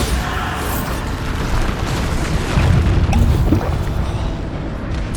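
Bombarda blasting-spell explosions during combat in Hogwarts Legacy, a loud, sustained rumbling boom with crashing debris filling the whole stretch.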